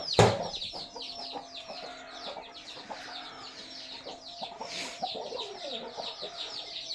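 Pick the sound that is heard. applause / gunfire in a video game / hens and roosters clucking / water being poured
hens and roosters clucking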